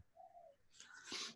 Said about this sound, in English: Can you hear those birds in the background?